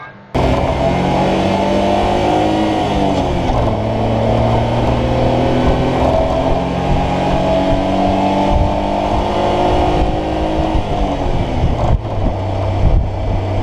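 A 1990 Honda Acty three-cylinder pickup truck drives along with a loud, continuous engine drone heard from inside the cab. Its pitch climbs and drops through gear changes.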